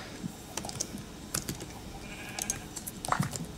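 Sheep in the Minecraft video game bleat in short bursts, mixed with sharp keyboard clicks and tapping throughout, with no voices.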